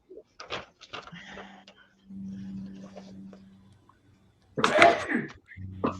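A sneeze bursts out near the end, amid soft whispery talk and a low hum, with a brief throat sound earlier.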